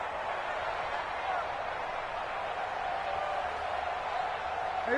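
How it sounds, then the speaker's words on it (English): Stadium crowd inside a domed arena in an American football video game, a dense, steady roar that fills the scene evenly from start to finish, with a faint sustained tone riding through it. "The crowd here in the Dome making things difficult."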